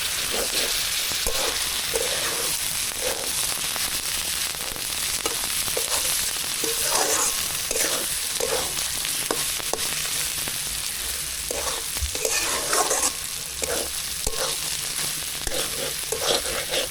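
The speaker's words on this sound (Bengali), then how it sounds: "ডিমগুলো মশলার ভিতরে সুন্দর করে ভেজে নিচ্ছে মা" Eggs frying in spicy masala in a pan, a steady close crackling sizzle throughout with intermittent scraping and stirring strokes of a spatula, no voices.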